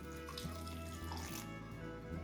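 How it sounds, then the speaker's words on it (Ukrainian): Water poured from a tap into a mixing bowl to moisten a cheap groundbait porridge of cereal grains for crucian carp and roach fishing, a steady close splashing stream running throughout with no talking. "Можемо чуть-чуть додати води. Додаємо трошки водички, зволожуємо"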